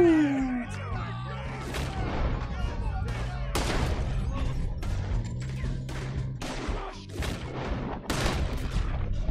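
Bursts of Red Dead Redemption 2 gunfire, sharp repeated shots and booms in quick succession, layered over a low droning background with a short rising tone at the start.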